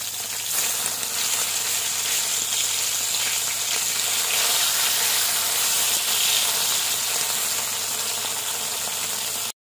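Fish frying in hot oil in a pan, a loud, steady, dense sizzle and crackle that runs unbroken close by, then stops abruptly.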